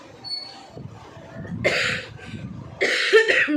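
A person coughs twice, harsh and close, the second cough stronger and more drawn out, with quiet breathing in between.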